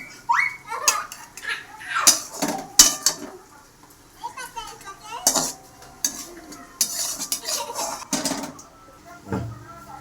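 Cooked prawns in a lati chingri dish are lifted from the pan with sharp, irregular metal clanks and scraping utensil clatter, loud and close, with a faint sizzle beneath and brief quieter gaps.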